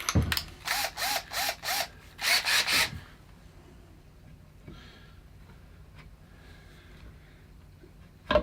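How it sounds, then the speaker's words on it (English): A stepper drill bit bores into a wooden guitar body in a burst of about seven loud, evenly spaced grinding pulses that stop after three seconds, leaving quiet room tone and a brief knock at the end. "Now for the stepper drill."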